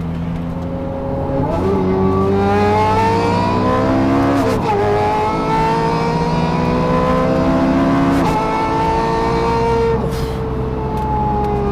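Turbocharged Smart Roadster Brabus Coupé engine accelerating hard, a loud close rising drone that climbs through the gears with brief dips at each shift, heard alone without talk.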